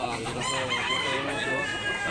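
Roosters at a rooster farm in Consolacion, North Cebu, where a white-legged bird is for sale; dense, steady overlapping calls and clucking fill the whole stretch at close range, with faint talk beneath.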